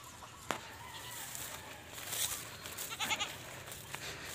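Goats bleating on a dry farm where the grass has run out, a few short calls at moderate distance over steady outdoor background noise.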